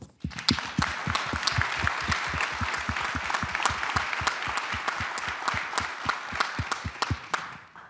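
A room claps in honor of the first Black American to lead the U.S. Department of Defense. The distinct, fairly even hand claps run steadily from start to end at moderate volume, without speech.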